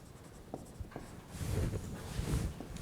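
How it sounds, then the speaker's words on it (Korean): Marker or chalk scratching out a word on a classroom board, a few short strokes followed by a longer stretch of steady scraping, close and moderately quiet with no talking. "여기 애니멀로 써볼게요."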